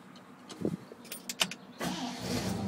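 A 1968 GMC C20 pickup truck engine cranks and catches after a few clicks and clunks, then settles into a steady low idle nearby.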